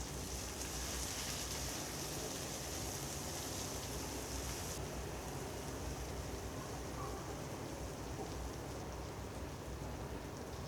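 Chopped large onions sauté in hot oil for parotta salna, giving a steady, dense, close sizzle and hiss that holds constant throughout with no voices.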